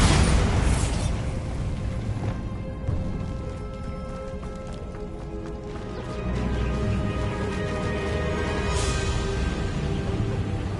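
Blasting explosions from the Bombarda spell in Hogwarts Legacy, with loud booming bursts and rumbling debris followed by an ongoing crackle of game effects and background score.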